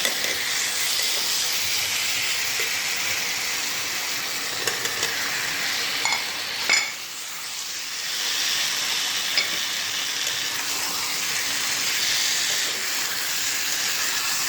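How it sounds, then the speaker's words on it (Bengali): Potatoes sautéing with spices and dried fenugreek in a pan over a low flame, a steady soft hiss and sizzle running the whole time, with a few faint stirring scrapes. "এটাকে ভালো করে মশলার সঙ্গে আলুগুলোকে কষিয়ে নেব, একটু টাইম নিয়ে লো ফ্লেমে।"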